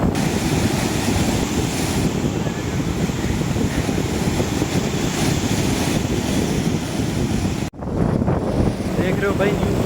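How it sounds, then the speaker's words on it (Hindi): Sea waves surging during a cyclone, a steady loud roar of surf and wind buffeting the microphone throughout, with a brief dropout near the end; no speech. "लहरें अभी थोड़ी कम हो गई हैं पहले से, बहुत कम हो गई"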